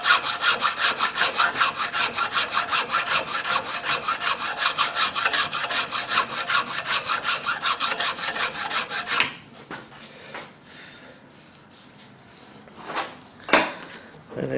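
A fine file rasps rhythmically across a wooden knife handle clamped in a vise, about two quick strokes a second for several seconds, then stops, leaving quiet handling knocks.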